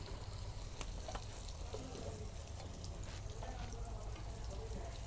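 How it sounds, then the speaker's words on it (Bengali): Pointed gourd slices frying in plenty of oil in a village kitchen, giving a steady, faint sizzle with occasional stirring clicks and no voices. "পটল ভাজতে আমার ভালো লাগতেছে।"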